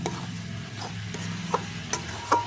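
Coriander leaves stirred into mashed eggplant bhorta in a pan, a soft sizzle under scattered spatula taps and scrapes, close and fairly quiet with no voices.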